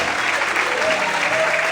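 A church congregation applauding together, a dense, steady wash of clapping filling the room at full volume, close and sustained throughout.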